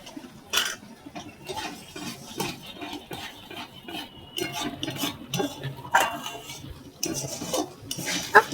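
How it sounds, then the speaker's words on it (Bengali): A spoon stirring palm-fruit kheer, a milk pudding, in a pot, with irregular scraping and clinking strokes against the metal, close up and without any talking. "এই ক্ষীরটা অনবরত নাড়তে হবে, না নিচে লেগে যাবে।"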